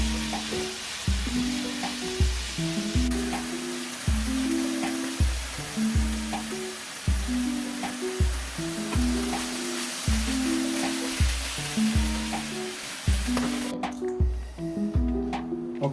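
Chop suey with chicken frying in a pan, a steady sizzle under a repeating rhythmic pattern of low tones across the whole stretch, fairly loud and close.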